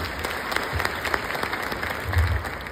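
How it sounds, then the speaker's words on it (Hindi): An audience at a Champion Club Platinum Pin achievement award event gives dense, continuous applause, a steady wash of many hands clapping without pause. "जबरदस्त तालियां होनी चाहिए।"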